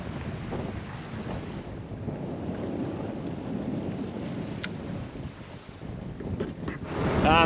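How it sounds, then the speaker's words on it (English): Strong wind roars and buffets the microphone throughout at Steep Point, with water sloshing underneath and gusts swelling louder near the end. "it's just way too windy, it's blowing me around everywhere"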